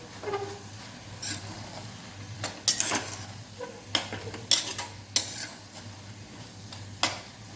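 A spoon scrapes and clatters through dill and moong dal bhaji in a pan, irregular stirring strokes with sharp metallic knocks over a faint steady hum, close and fairly quiet, with no talk.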